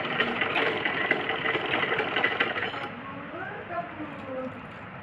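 A sewing machine stitching folded underwear fabric runs in a rapid, steady mechanical whir up close, then stops partway through, leaving quieter handling sounds.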